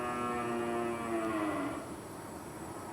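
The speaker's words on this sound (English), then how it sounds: "Them cattle over there on your right, coming around the top." Cattle in a cutting horse arena give one drawn-out, fairly loud moo that falls in pitch and fades into low background noise.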